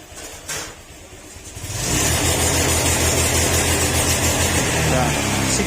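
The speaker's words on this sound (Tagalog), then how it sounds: "papansin nyo yung under ng motor niya, parang, kala mo, may limiter." A Honda Click 125 scooter with a check-engine fault, misfiring, and a freshly replaced TPS sensor starts up after a quiet moment and revs loudly but flatly, its engine noise capped and strained, with talking over it.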